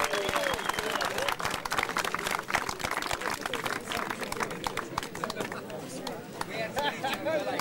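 A crowd at a junior 50cc motocross championship round in Caransebes claps in a dense, continuous burst, with voices talking underneath.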